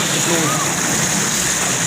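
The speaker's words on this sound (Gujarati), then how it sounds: "કેટલું ઝડપી સ્પીડથી ફોર્સથી પાણી વહી રહ્યું છે" Floodwater rushes fast and forcefully across a highway in a dense, continuous roar of gushing and splashing, loud and close throughout, with no clear speech.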